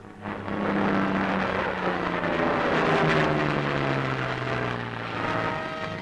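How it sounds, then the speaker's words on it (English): A low-flying propeller plane drones loudly overhead in a 1944 wartime newsreel, its engine pitch sliding lower as it passes close by, a steady roar filling the whole stretch. "Contact is made with the low-flying craft."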